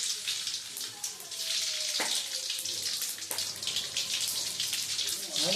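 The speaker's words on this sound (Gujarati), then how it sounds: "હવે આપણે રાઈ નાખીશું" Mustard seeds sizzling and crackling in hot oil while preparing poha, a continuous bright hiss with a few sharp pops standing out, close and steady throughout.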